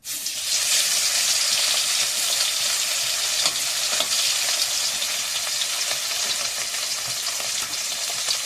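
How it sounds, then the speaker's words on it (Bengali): Fish fry in a pan with hot oil, giving a loud, continuous sizzle and crackle that holds steady throughout, close up with no voices. "এবারে মাছগুলো ভেজে নেব।"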